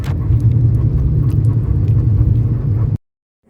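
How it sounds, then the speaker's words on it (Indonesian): Low rumbling drone of a bus interior while riding to a church, with faint rattles and jingles over the engine before it cuts off abruptly. "Sekarang, saya sedang naik bus menuju ke gereja."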